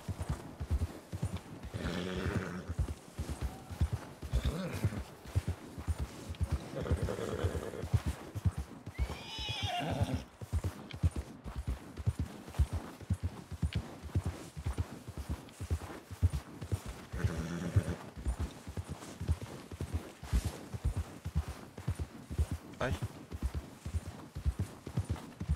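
Horse hooves clip-clop in a steady, rapid rhythm through the whole stretch in Red Dead Redemption 2, with occasional whinnies and neighs breaking in over the gallop.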